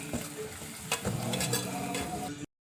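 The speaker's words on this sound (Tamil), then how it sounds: "சூடானதும் அதில் நம்ம நறுக்கி வச்சுருக்க இஞ்சி, கருவேப்பிலை, வெங்காயம் இது எல்லாத்தையும் போட்டு நல்லா பச்சை வாசனை போகிற அளவுக்கு வதக்கி எடுத்துக்கலாம்" Ginger, curry leaves and onion sautéing in hot coconut oil, a steady close sizzle with stirring scrapes through most of the clip before it cuts off abruptly.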